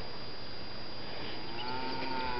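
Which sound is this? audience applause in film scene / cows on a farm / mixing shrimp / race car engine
cows on a farm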